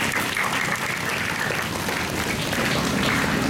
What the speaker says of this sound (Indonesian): kita beri tepuk tangan, sama-sama.